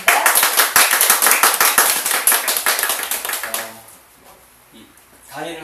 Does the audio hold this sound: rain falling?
no